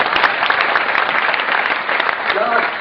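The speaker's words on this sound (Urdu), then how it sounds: "آپ کی تالیوں کے شور میں" An audience at a poetry recital gathering claps in a loud, sustained burst of dense applause, close and continuous, with a voice heard briefly under it near the end.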